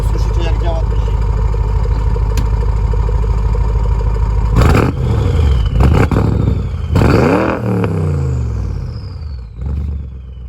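An Audi RS6 engine idles with a deep rumble, then is revved hard several times, the exhaust roaring up and falling back, loud and close.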